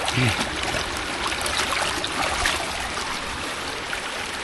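A steady, churning rush of rainwater flows into a backed-up pipe during West Virginia's rain season, continuous and fairly close, with a brief voice near the start.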